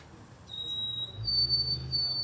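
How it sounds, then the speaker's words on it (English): A recorded white-throated sparrow song plays as a thin, pure whistled note that starts, pauses briefly, then resumes in a slightly higher sustained tone over low background murmur. "White-throated sparrow. Another beautiful plaintive song."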